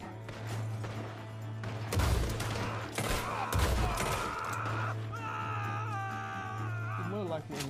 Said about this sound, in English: I'm shooting through the window.